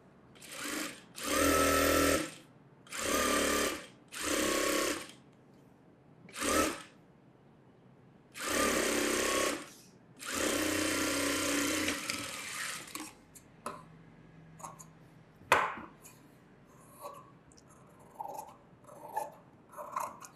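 A sewing machine stitches a lining onto a fancy blouse in several bursts of close, loud whirring separated by pauses, then falls quiet apart from faint handling clicks and one sharp tap.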